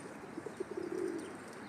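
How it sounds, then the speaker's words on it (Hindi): Pigeons feeding outdoors give a short, soft cooing call that rises and then trails off over quiet background noise, faint and brief. "इतने सारे कबूतर हैं"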